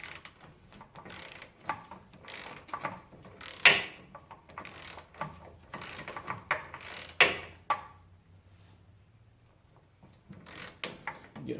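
A ratchet wrench works an 18 mm control arm bolt loose on a 2007-2012 Ford Fusion or 2003-2007 Mazda 6, making bursts of close metallic clicking and clunks with short pauses between strokes.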